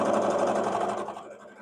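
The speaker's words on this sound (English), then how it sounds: "do you hear the sewing machine?" A sewing machine runs steadily with a fast, even mechanical chatter, fairly close but moderate in level, slowing and thinning near the end.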